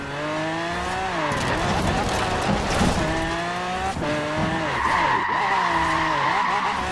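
Tires skid and squeal continuously as a car drifts in Forza Horizon 4, over a loud, revving engine whose pitch rises and falls through gear changes, all close and sustained.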